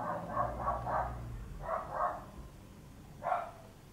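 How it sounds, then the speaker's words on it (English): Several dogs barking in short bursts, a quick run of four barks, then two more, then a single bark, moderately loud and somewhat distant indoors, with a low steady hum underneath. "Sorry if you can hear my dogs barking."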